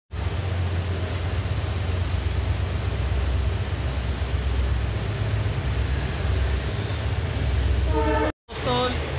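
A passenger express train running between Ferozepur Cantonment and Ludhiana in 40-degree heat, with a steady loud roar of wheels and carriage rumble that breaks off briefly near the end, followed by a short horn-like tone.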